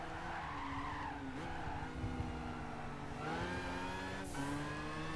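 Race cars in Gran Turismo 5 squeal their tires in a long skid, with engines droning and revving up and down in pitch. Game sound runs steadily at moderate volume, with no talking.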